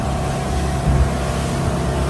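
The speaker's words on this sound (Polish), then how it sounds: "jesteśmy właśnie na łódce" Boat motor droning steadily and loudly on a private boat trip around islands in Vietnam, a constant low engine rumble with a slight swell near the middle and no talking.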